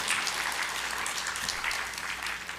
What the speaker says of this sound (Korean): 환영의 박수 한번 해주세요.